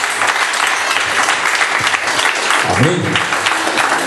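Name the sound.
congregation applauding in church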